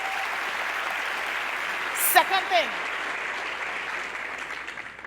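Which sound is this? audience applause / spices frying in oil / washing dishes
audience applause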